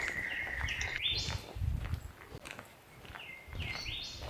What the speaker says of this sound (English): Hear all the birds here.